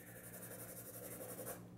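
A traditional number two pencil writes on paper, a soft continuous scratching and rubbing of graphite that is faint and close, with no talk.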